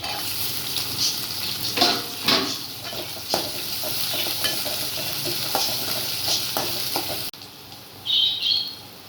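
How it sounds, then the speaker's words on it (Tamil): Steady sizzling of garlic and shallots frying in hot oil with occasional stirring clatter, continuous and close, ending with a brief bird chirp. "பூண்டு பொரிஞ்சிருச்சு இப்போ சின்ன வெங்காயம் போட்டுக்கலாம்"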